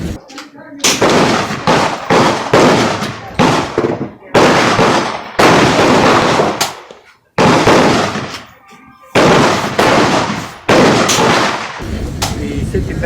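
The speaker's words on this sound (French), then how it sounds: "Là qui tirent au gros calibre, à côté de toi." Large-calibre guns fire at an outdoor shooting range in Florida, each shot a loud, sharp blast with a ringing tail, about a dozen rounds at uneven intervals, some in quick pairs.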